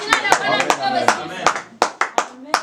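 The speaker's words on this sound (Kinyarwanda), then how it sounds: "Anataka na sisi tushichapie makofi" A church congregation claps in a series of sharp, separate hand claps, loud and close, while a preacher's voice carries on over them between the strikes.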